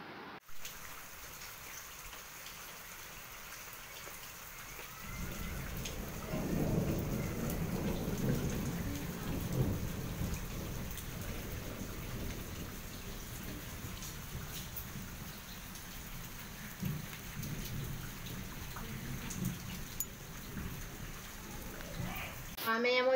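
Heavy rain pours steadily with a low rumbling of thunder, the downpour swelling louder after a quieter opening and continuing as a dense, continuous wash throughout.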